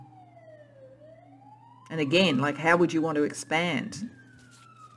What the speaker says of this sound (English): I don't know if you can hear that sort of siren in the background